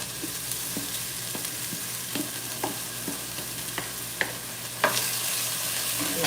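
Onions and sweet peppers sauté in a pan with a steady soft sizzle, punctuated by intermittent scrapes and clacks of stirring, with no one speaking.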